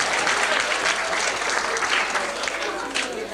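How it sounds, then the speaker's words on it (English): A burst of sustained clapping from a crowd, dense and steady throughout, fairly loud and close. "Give him a clap."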